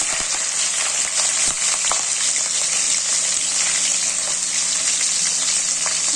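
Green chilies, dried red chilies and curry leaves frying in hot oil for a dal palak tempering, a steady loud sizzle and crackle with a few sharp pops throughout, no voices.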